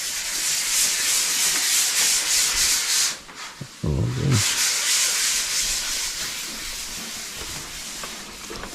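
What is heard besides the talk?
sanding with sandpaper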